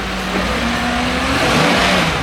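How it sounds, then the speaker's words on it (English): A 2019 Chevrolet Silverado LT pickup bought salvaged from auction, its engine running steadily with a low, continuous rumble and a slight rise in revs, close and fairly loud with no talking. "believe it or not, this truck actually runs and drives"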